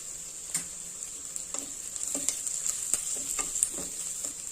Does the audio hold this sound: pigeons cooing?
no